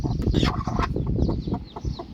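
Chickens clucking close by, a dense run of rapid clucks and squawks with a rural background hum, loud and continuous throughout.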